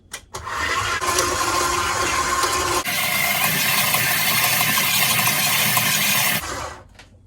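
A stand mixer beats beef paste at its lowest speed, a loud steady mechanical whir that starts abruptly, shifts to a harsher churning grind midway, then shuts off and fades.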